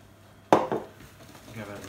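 Beer batter with white pepper whisked in a bowl: a sudden clatter of utensil against the bowl, then a few quieter scraping strokes, close by.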